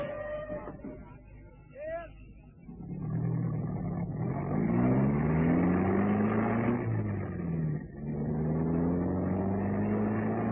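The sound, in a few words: car driving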